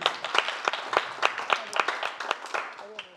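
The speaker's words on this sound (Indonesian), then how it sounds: "Juan dan Ip, tepuk tangan dong." A comedy roast audience claps in a steady run of sharp, rhythmic claps, with voices faintly present and a bit of talk at the very end.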